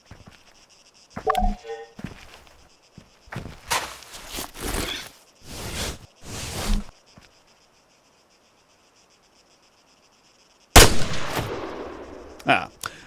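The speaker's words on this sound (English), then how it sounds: "When you're ready, put some rounds down range." Rifle shots fired at range targets in the military game ARMA 3 crack out in several sharp, loud bursts spaced a few seconds apart, followed by near silence and then one more heavy report with a trailing echo.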